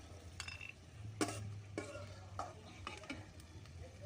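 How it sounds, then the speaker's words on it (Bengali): Fried peanuts are stirred and scooped out of a frying pan while making cauliflower singara, giving soft scraping and rustling strokes with a faint sizzle, fairly quiet and close, with no talking. "বাদামগুলো ভাজা হয়ে গেছে,"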